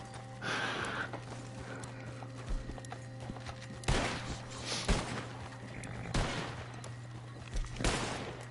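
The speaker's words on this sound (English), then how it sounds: "You can't hear me over the gunshots." Gunfire in the Western video game Red Dead Online, several sharp broadband shots scattered irregularly over a steady hum and game ambience, with horse hoof sounds mixed in.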